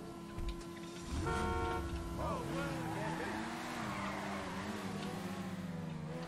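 A fast car in GTA Online revving and pulling away, engine tone climbing and sweeping in pitch, with a brief horn-like toot near the start.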